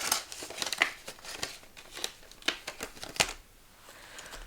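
Paper cash bills are handled and slipped into a paper food budget envelope, giving soft crinkling rustles and a few sharper crisp snaps, close and fairly quiet with no talking.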